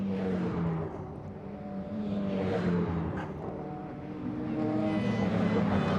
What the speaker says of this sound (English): Schneider going after another Opel.